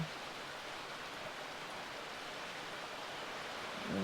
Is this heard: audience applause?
no